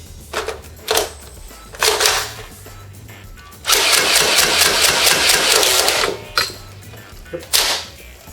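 The jammed gearbox of a full-auto QBZ-95 shell-ejecting Nerf blaster grinds out in harsh mechanical bursts: several short stutters, one long buzzing grind lasting a couple of seconds, then a few more brief chattering spurts.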